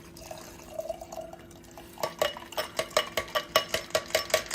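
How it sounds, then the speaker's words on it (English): A shaken drink is poured into a little glass: after a quiet moment, a rapid run of rhythmic glugging splashes sets in, close and distinct, with no talking. "you're going to pour it into a little glass"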